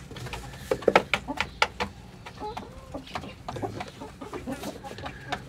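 Tiger breed hens cluck and cackle in short irregular bursts, close and fairly loud, against a low farmyard background.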